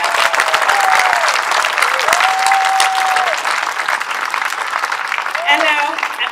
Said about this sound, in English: I'd like to welcome everybody, one big round of applause